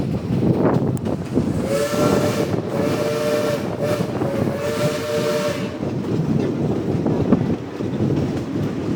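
The Silver Dollar City train rumbles loudly along the rails while a long steam whistle blows for several seconds in the middle.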